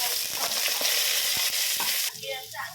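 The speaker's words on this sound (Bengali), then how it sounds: "একই কড়াইতে আমি আবারও তেল দিয়ে দিলাম কড়াই গরম হয়ে গেছে তেলটা আমি কয়েকটা গোটা মশলা দিয়ে দিলাম" Whole spices crackle and sizzle loudly in hot oil in a wok with crushed garlic, with a few sharp pops and spoon scrapes, the hiss easing toward the end.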